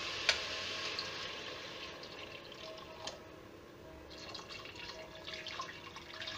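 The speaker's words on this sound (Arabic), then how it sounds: "ممكن نزيدو الماء سخون" Hot water trickling and dripping into a cooking pot for a Moroccan tajine with cardoons, a faint, thin pouring sound with a sharp splash near the start, heard close against a quiet room.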